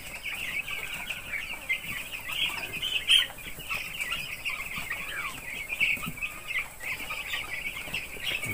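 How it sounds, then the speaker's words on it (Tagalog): Seven-day-old chicks in a warm coop, a constant chorus of high-pitched peeping and cheeping at close range, steady throughout with no talking over it. "Tingnan nyo yung mga sisiyo natin."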